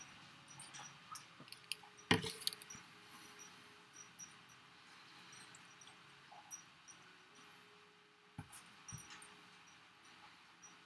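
A dog crunches dry food close by, a faint but steady run of quick crisp bites and chews, with one sharper clatter early on, in a quiet indoor room.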